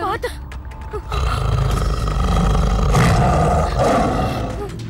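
A tiger lets out a deep, loud, drawn-out roar that builds and holds for several seconds, with people's voices heard under and around it.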